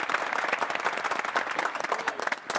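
Brief burst of clapping from a small group of people celebrating a shop opening, close and uneven in rhythm.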